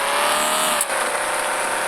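A drift car's engine in a racing video game whines at high revs with a rising pitch, briefly cutting out for a moment before resuming its loud, continuous drone.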